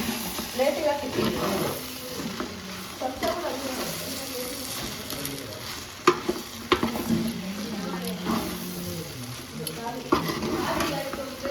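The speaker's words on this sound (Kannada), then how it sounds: "ಎಣ್ಣೆ ಹಾಕಾದ್ಮೇಲೆ ಮಿಕ್ಸ್ ಮಾಡ್ಕೋಬೇಕು ಇದನ್ನು." Patrode being mixed with oil in a pan, with continuous stirring, scraping and soft sizzling, and occasional sharp utensil knocks, with voices talking faintly in the background.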